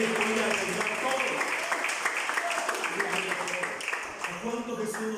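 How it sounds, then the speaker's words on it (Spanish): A church congregation claps in praise during a sermon, a fairly loud, busy spell of applause mixed with voices and some background music. "De una aplauso al Señor."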